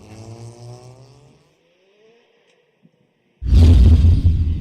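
A drift car at a Formula Drift Japan qualifying run throttles through the outer zone, a fading engine tone giving way to a sudden loud, close roar of engine and tire noise.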